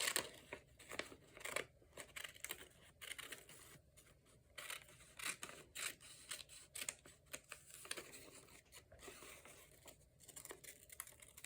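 Scissors cut through a paper envelope trimmed from magazine pages, a quiet, close series of irregular snips and crisp paper rustles with brief pauses between them.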